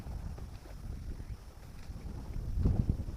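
Strong, fast cold wind buffets steadily through the whole stretch outdoors, rumbling and gusting louder toward the end.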